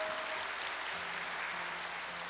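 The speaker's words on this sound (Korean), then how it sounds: "힘찬 응원의 박수 부탁드립니다" Applause from a church congregation at a Sunday worship service, a steady even patter of many hands at moderate volume with no voices over it.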